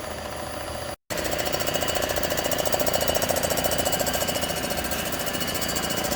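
A machine resurfaces a 2011 Jeep 3.7L cylinder head with a fast, rhythmic, jackhammer-like chatter. The sound is close and constant, broken only by a brief dropout near the start.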